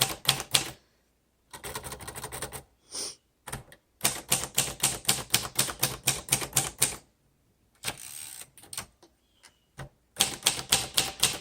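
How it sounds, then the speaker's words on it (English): A charcoal 1956 Royal Quiet De Luxe typewriter being typed on up close, its keys striking in rapid, crisp bursts separated by short silent pauses. "let's go ahead and keep going through all of our keys and test all of those"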